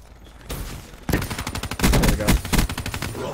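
Dingo gun firing in Black Ops 3, with bursts of rapid gunshots that start after a brief lull and grow louder, sharp repeated reports stacked close together.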